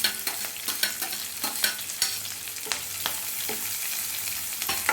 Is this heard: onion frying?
yes